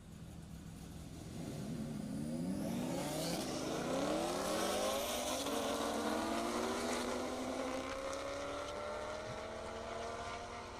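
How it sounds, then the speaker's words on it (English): An Audi R8 and a Camaro launch down an airport drag strip, engines rising through successive gear changes as they roar away in a long sustained pull heard from trackside. "Naran Durai and that Audi R8, Chad Rusa in the Camaro."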